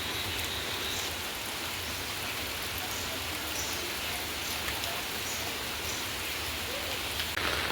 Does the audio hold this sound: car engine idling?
no